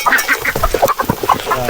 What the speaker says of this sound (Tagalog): Pangalawang pakain para sa ating mga heritage chicken.